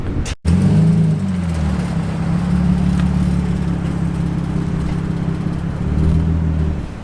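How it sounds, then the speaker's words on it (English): A car driving past at a car meet, with a steady, loud, close engine drone and low rumble holding for several seconds after a brief dropout near the start. "I never seen my car driven."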